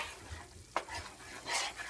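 Food browning in a pan, with a soft, steady sizzle and a few scraping stirs, one sharp clack near the middle and a louder hiss burst toward the end.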